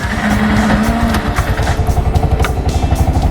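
A tuk-tuk's small engine runs steadily and close by, with a rapid throbbing putter and clattering mechanical noise as it revs gently while the driver pulls away in first gear.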